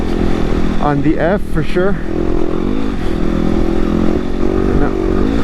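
A 2016 Yamaha WR250R motorcycle rides over whoops, its engine droning steadily up close with a loud continuous hum while a rider's voice talks over it.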